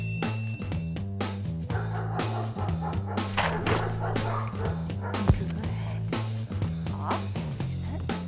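Service dogs trained to help people with disabilities bark and yip repeatedly at a canine ranch, the sharp calls rising over a steady tonal background with voices mixed in.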